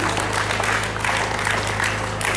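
A room applauds the Latécoère raid participants at a reception in Perpignan, with thick, sustained clapping that stays even and loud throughout over a low electrical hum.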